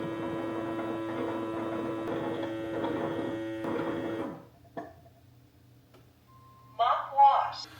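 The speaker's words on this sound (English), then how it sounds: "I think the vacuum is almost done mopping it or cleaning the mop. It's still making noises." A Roborock robot vacuum cleaning its mop runs with a steady mechanical hum and whir close by, then stops abruptly, leaving near silence before a person starts talking.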